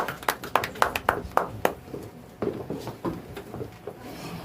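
Church congregation applauding after a scripture reading: a dozen or so distinct, fairly close claps in an uneven rhythm, then softer scattered clapping and shuffling as the room settles.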